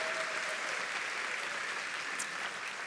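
An audience applauds Dr. Westmoreland, a former Samford president, at a talent show event. The clapping is a steady, even wash of many hands that holds for the whole stretch, with no voices standing out.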